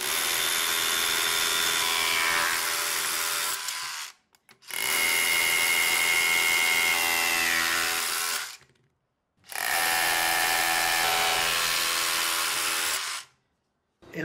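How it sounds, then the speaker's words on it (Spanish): A DeWalt DCH172B 20V cordless rotary hammer pushed hard with a 3/4-inch bit and a 2 Ah battery runs in three long, loud buzzing bursts of several seconds each, separated by short silent pauses, with no talking. "El rotomartillo no está diseñado para esto, pero vamos a llevarlo al límite con una broca de 3/4 y una pila de 2 amperes."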